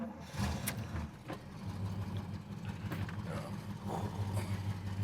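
A 1979 Pontiac Trans Am Y84 drives along, its engine giving a steady, loud low rumble close by for the whole stretch, with road and wind noise on top and no talking.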